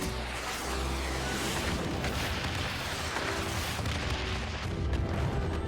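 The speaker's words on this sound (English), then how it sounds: "Ooh, pretty fireworks." Loud, dense booming blasts of fireworks in a video game raid-boss scene, rolling continuously with deep rumbling thuds and crackle throughout.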